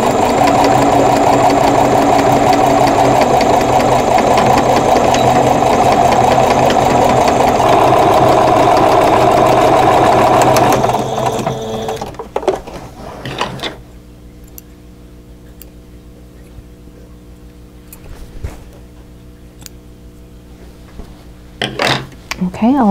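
Sewing machine stitching channels into a fabric crochet hook wrap, running as a steady loud whirring drone for about eleven seconds, then stopping, followed by quiet handling clicks and faint thumps.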